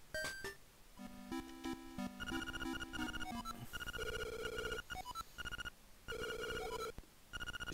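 A chiptune telephone rings in the Link's Awakening video game, repeated bursts of bright electronic tones with short gaps between them, clear and up close with no talk.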